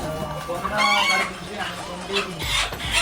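Large chickens and roosters at a poultry farm cluck and squawk in short, overlapping bursts, close by, with a brief honk-like cry standing out among the flock.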